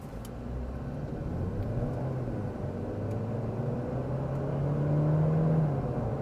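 A 2024 Audi A3 accelerating hard from a standstill, heard from inside as a steady engine drone whose pitch climbs smoothly and then levels off, moderately loud and free of talk.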